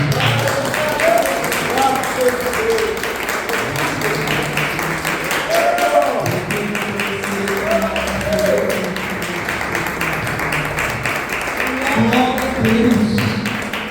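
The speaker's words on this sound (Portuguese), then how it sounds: "E você vai começar agora oferecendo as suas melhores palmas ao nome do Senhor" A church congregation claps and applauds in praise to the Lord, a steady dense patter of many hands lasting throughout, with scattered voices and shouts mixed in over the clapping.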